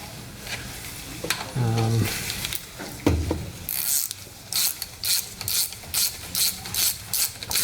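A ratchet tightens cylinder head nuts on a Triumph Spitfire engine, a burst of rapid clicking strokes repeating in a steady rhythm close up, with brief mechanical clunks and a few low voiced sounds early on.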